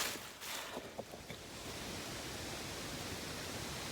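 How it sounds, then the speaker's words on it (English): Wind rustles through leaves along a quiet morning hiking trail, a steady soft broadband hiss with a few brief louder gusts in the first second and a half, with no one speaking. "All you can hear are the leaves blowing in the wind."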